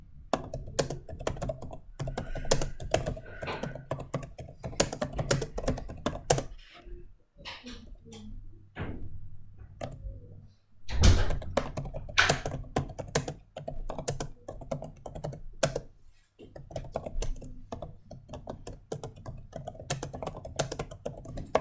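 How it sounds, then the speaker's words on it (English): Rapid typing on a computer keyboard during a web coding session, with dense, irregular key clicks close up and steady, briefly pausing around the middle, no talking. "So I'll just type in something very quickly."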